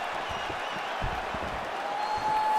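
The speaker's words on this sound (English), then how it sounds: "the crowd is loving it" A UFC 5 arena crowd cheers and claps at an MMA fight as a steady moderate wash of noise that swells slightly toward the end, with no clear talk on top.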